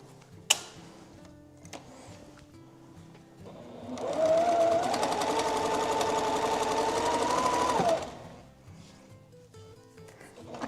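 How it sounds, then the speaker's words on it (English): A sewing machine joins long strips of a flag quilt in one continuous, close whirring run of about four seconds, preceded by a sharp click and quiet handling sounds. "I'm gonna sew the rest of these long strips together."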